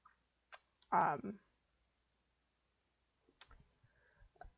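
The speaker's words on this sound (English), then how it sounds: "right click and say delete, or I can click on it" Computer mouse clicks sound during AutoCAD drafting work, a few short, sharp, quiet clicks scattered among soft desk noise and a brief vocal sound, close to the mic.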